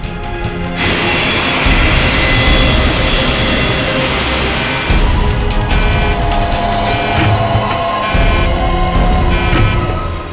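A passenger airplane's jet engines drone loudly and steadily in flight, a broad continuous roar heard from inside the cabin with slight swells in intensity.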